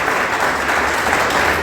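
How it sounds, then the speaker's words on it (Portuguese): A church congregation claps in praise during a service, producing a steady, dense, close burst of applause with no speech heard. "Você pode aplaudir ao Senhor."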